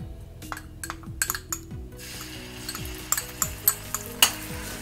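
Ginger garlic paste fries in hot refined oil in a kadai over a medium flame, with a steady sizzle, spoon scrapes and metal clinks of stirring against the pan.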